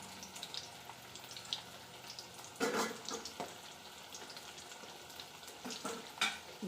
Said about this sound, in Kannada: ನೋಡಿದ್ರಲ್ಲ ಹೆಂಗೆ ಸಿಡಿಯುತ್ತೆ, ಢಮ್ ಢಮ್ ಢಮ್ ಅಂತ.